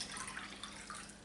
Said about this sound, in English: We're going to pour that into our cup of molasses,